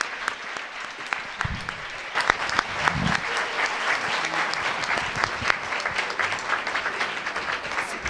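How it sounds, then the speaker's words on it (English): An audience at an international service-learning conference applauds youth participants, steady dense clapping filling the hall, moderately loud, with a few sharper claps on top. "Let's give them a round of applause."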